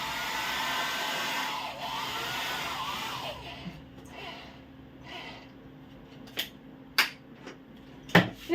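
A hair dryer whirs steadily for about three seconds, then its roar drops away. Scattered knocks and bumps follow near the end. Close and moderate in level.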